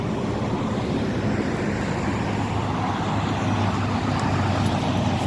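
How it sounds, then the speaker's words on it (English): Dense road traffic roars steadily close by at street level near a cul-de-sac, a loud continuous rumble of cars and trucks with no voices. "The mic's facing the traffic now."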